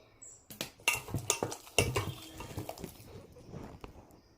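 Punugulu batter with salt is stirred in a bowl, making a run of close clinks and wet, sloppy scraping strokes that are loudest early on and fade off, with no speech.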